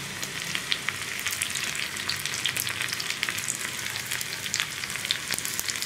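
Sliced onions and dried red chillies fry in hot oil, a dense continuous sizzle with crackling pops and occasional stirring scrapes, steady and close, no talking.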